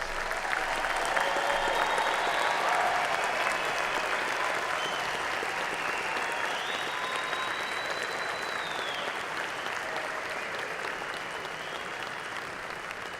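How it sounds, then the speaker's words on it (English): At a graduate school commencement, a large audience applauds the graduates with steady, even clapping that fills the room, heard from a distance and gradually easing toward the end. "Let's acknowledge the accomplishments of all of our distinguished graduates with a hearty round of applause."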